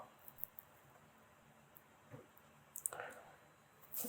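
A handful of light computer mouse clicks, sparse and close, scattered across a quiet room background with a brief louder click cluster near the middle and another at the end.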